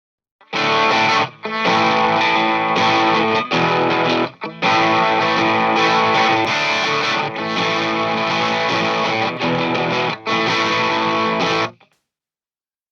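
A tube guitar amplifier pushed into heavy distortion plays sustained chords in several long bursts, thick and saturated, loud and close, separated by brief silences.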